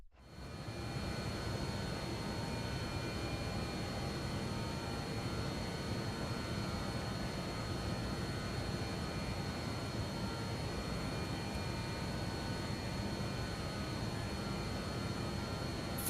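A Cessna Citation X business jet in flight in a flight simulator, a steady broadband engine and airflow roar with faint tonal whine holding evenly throughout, no talk.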